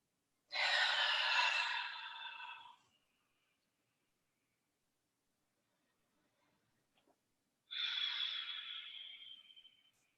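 Deep yoga breath, a long full inhalation and slow emptying exhalation, heard as two soft airy rushes separated by several seconds of quiet, close to the microphone with no talking.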